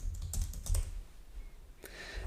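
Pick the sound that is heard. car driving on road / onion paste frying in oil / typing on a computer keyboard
typing on a computer keyboard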